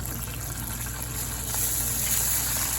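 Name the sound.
water poured into pot of baldo rice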